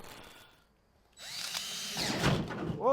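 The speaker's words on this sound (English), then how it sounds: "we'll use our plastic saw or our oscillating tool and take care of that" Oscillating tool cuts out plastic floor louvers on a 2023 Can-Am UTV, giving a harsh, continuous buzzing saw sound after a short quiet start. It is close and builds in loudness toward the end.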